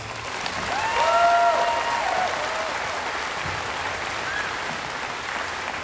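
A crowd at the Ganado High School 2022 graduation ceremony applauds the graduating class, a broad steady wash of clapping that swells in the first seconds and holds, with a few faint whistles above it.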